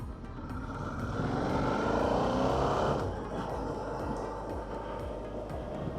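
Motorcycle riding captured on a DJI Mic Mini with noise reduction set to high, a steady engine and road rumble that swells into a louder surge mid-ride, then settles back to a constant drone with no talk.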